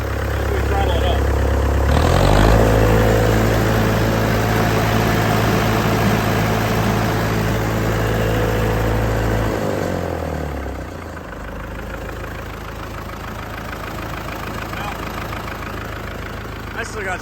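Farmall 400 diesel tractor engine with a fuel pressure problem, throttled up to a loud steady roar with low rumble that drops back down partway through, continuing at a lower idle.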